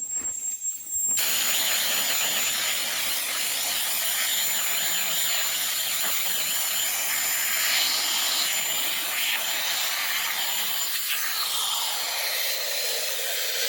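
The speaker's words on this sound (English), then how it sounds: "it'll blow out air without being plugged in, so I don't need a 400-foot extension cord. So we'll get them slider pins cleaned out." Steady, loud blast of compressed air from a cordless blower cleaning out a gate's slider pins, a broad rushing hiss held for the whole stretch after a brief quieter start.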